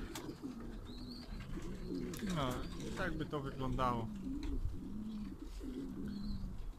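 Racing pigeons coo softly and repeatedly close by, their low throaty calls overlapping a voice talking in Polish, with a few faint chirps in the background.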